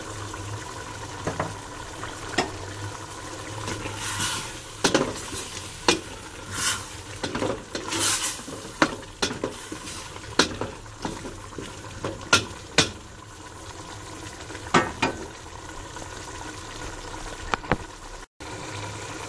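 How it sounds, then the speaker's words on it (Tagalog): Dried shrimp going into a pan of pinakbet vegetables with squash, stirred against the pan with irregular scrapes and clatters over a low, steady sizzle, no voices. "Ayan, lalagyan na natin ang ating dried na hipon."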